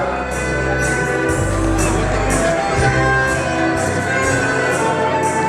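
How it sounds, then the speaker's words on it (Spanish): Wedding guests applauding during a mass in Ameyaltepec, a steady, loud wash of clapping from a crowd that holds throughout, with faint voices mixed in. "Muchas gracias, hermanos, señores, amigos, los aplausos."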